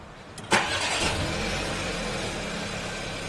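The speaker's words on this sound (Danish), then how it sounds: "Vi træder nu koblingen i bund og starter motoren." A car engine is started with the clutch pressed to the floor: a sharp catch about half a second in, then the motor settles into a steady, fairly loud idle.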